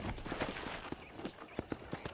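Horse hooves clip-clopping in the Red Dead Redemption video game, a steady, fairly faint series of hoof strikes on the ground at a walking pace, heard alone.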